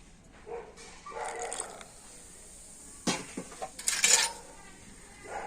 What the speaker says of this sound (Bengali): তো জল দিয়ে ব্যাটারটাকে কিন্তু আবারও খুব ভালো করে ফেটিয়ে নেব